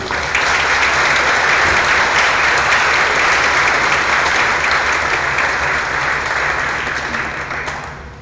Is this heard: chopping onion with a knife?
no